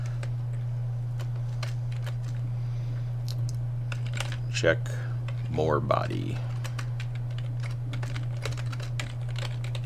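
Typing on a computer keyboard during assembly language programming, steady clicky keystrokes close to the microphone over a constant electrical hum, with brief muttered speech partway through.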